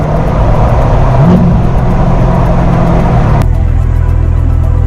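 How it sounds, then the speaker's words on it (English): Ford Mustang with a catless exhaust at a state park, a loud, close, deep engine roar that holds steady, rises briefly in pitch as it revs, then drops abruptly to a lower idle-like rumble. "He's in his Mustang he's got basically a catless setup. The car sounds great."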